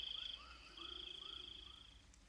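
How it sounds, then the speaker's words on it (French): A cartoon guardian toad croaks in a rapid, pulsing trill of repeated close croaks, pausing briefly and then resuming, with a thin high tone running underneath. "mon crapaud gardien"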